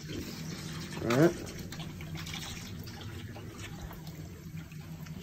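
Water trickles and rushes steadily as a Williamson GWA-070 gas boiler fills through its fast fill valve during annual heating maintenance, with someone speaking briefly over the flow.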